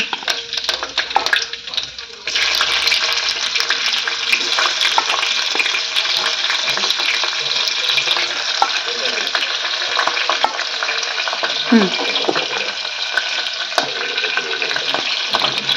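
Curry leaves and chilies drop into hot oil and set off a sudden loud, crackling sizzle that holds steady and close, with occasional stirring clinks and scrapes and brief speech underneath.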